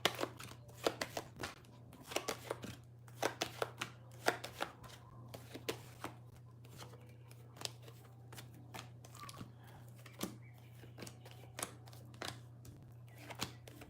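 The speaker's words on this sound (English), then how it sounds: "Let me just shuffle these cards real quick." Tarot cards are shuffled in quick irregular riffles and taps, close but faint over a steady low electrical hum, with no one talking.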